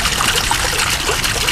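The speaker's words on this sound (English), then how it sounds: "You can see that water coming out the back" Water trickles steadily from a two-stack birdbath rock fountain, running down the back of rough stone in a close, continuous splashing stream with no voices.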